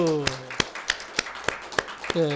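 Sharp claps ring out at a steady, spaced beat in a church service after early-morning prayer attendees are honored. The clapping is moderately close, with a speaking voice just before and after it.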